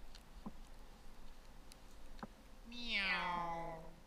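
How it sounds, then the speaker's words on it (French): A cat meows once, a clear drawn-out call rising then falling, heard fairly close on a quiet snowy mountain hike in Corsica with faint ticks and rustles before it. "Un chat."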